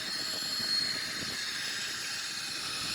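Boeing 777-300ER jet engines in a flight simulator spool up for takeoff in a steady, fairly faint broadband roar with a thin high whine, continuous throughout.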